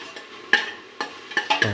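Stew ingredients for a cinnamon split pigeon pea dish frying in a pot: a faint sizzle underneath a handful of sharp stirring clinks and scrapes from a spoon against the pot, close and brief.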